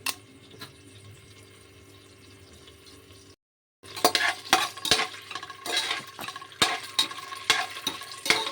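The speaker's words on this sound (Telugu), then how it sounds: "మనం బిర్యానీ సామాన్ ఏమైతే వేయాలనుకుంటున్నామో అవన్నీ వేసి ఒకసారి వేయించాలి" Cinnamon, cloves and cardamom frying in oil for vegetable biryani, a steady low sizzle that stops briefly, then returns with repeated clanks and scrapes of a spoon stirring against the pan.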